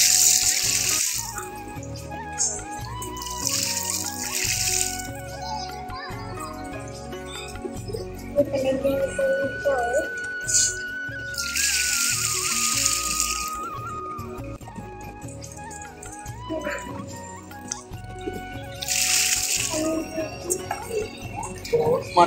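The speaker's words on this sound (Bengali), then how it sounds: "আবার একটু পানি দিয়ে দিব।" Water is poured in short bursts over duck droppings as organic fertilizer is prepared. Several splashing pours come at intervals, with someone talking and other background sounds in between.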